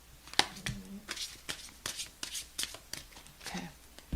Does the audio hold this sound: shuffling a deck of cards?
yes